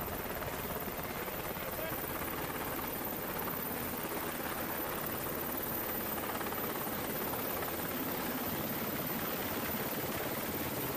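A military helicopter's loud, steady rotor drone fills the whole stretch without letup during a floating mine drill, close and unbroken.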